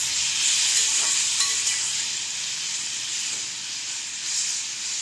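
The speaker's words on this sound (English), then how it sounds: "Giving it a mix." Sweet tomato chutney made with ripe red tomatoes being stirred in a pan, giving a continuous bright sizzle and hiss with faint scraping from the spoon.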